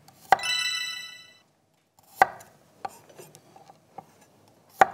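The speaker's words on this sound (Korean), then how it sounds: "마늘은 납작 썰기." A knife slices garlic flat against a cutting board, giving a few sharp, separate knocks with a brief ringing clink early on, close and clear over a quiet kitchen.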